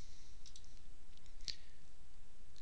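During drafting in AutoCAD, a few faint mouse clicks sound close by, with one sharper click near the middle over a quiet background.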